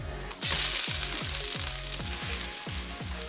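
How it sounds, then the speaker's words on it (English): Italian sausage sizzles steadily in a Dutch oven with onions, a loud continuous crackle starting abruptly and holding, with soft periodic scrapes and knocks as the meat is moved about. "Cook 1 pound of Italian sausage until it's almost entirely cooked."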